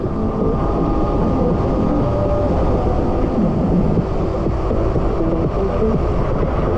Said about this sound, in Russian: О, ветер какой!